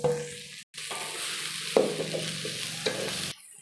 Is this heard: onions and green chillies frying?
yes